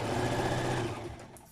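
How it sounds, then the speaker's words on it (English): Sewing machine running a quick stitch on skirt fabric, a close, fast buzzing whir that fades out at the end. "Place it in your sewing machine, backstitch, and you continue sewing like so,"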